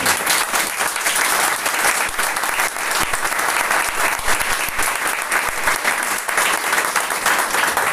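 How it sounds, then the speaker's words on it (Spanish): A church congregation applauds during a worship service, a dense, steady round of many hands clapping that holds at an even level for the whole stretch, with no voices rising above it. "Alguien tiene que darle un fuerte aplauso al Señor."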